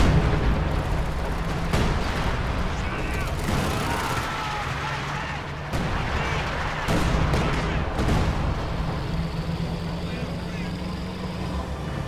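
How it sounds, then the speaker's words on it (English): Priest self-propelled artillery firing in a Company of Heroes battle against a Jagdtiger, with several heavy booming blasts spread over a constant rumble of battle noise and a voice talking throughout. "Priests are firing on the Jagdtiger."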